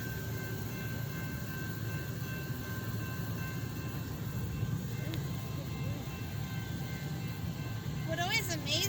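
A long train rolls steadily past a grade crossing, a continuous low rumble of many cars with a faint whistle-like tone near the end; people talk over it.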